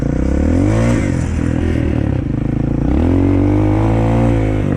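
A Shineray VXR 300 motorcycle ridden on a test drive, its engine droning loud and close, with pitch rising and falling as the throttle changes and a rough rattling undertone throughout.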